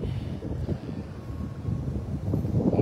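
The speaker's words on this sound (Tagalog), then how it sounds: "Malamig kasi mahangin sa taas." Wind gusts up high outdoors buffet the microphone, producing a constant low, rumbling roar that swells and dips throughout, with no speech.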